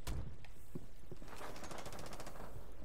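Shooter game gunfire, faint and somewhat distant: a few scattered shots early, then a rapid automatic burst of evenly spaced cracks through the middle of the clip, over steady background noise.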